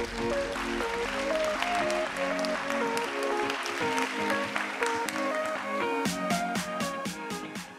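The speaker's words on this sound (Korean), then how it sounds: "박수로 맞이해주십시오" An audience at a corporate AI summit applauds to welcome an HL Holdings executive to the stage, with steady, dense clapping throughout under event music that grows brighter near the end.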